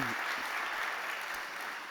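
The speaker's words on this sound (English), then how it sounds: "with this, big applause for Sam." Large audience claps steadily in a startup competition hall, a dense, even wash of applause that holds at full strength for about two seconds.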